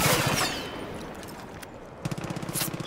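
Gunfire from a gun in the video game Far Cry 5: a rapid burst of shots at the start, then a quieter stretch with scattered impacts, and another run of rhythmic shots near the end.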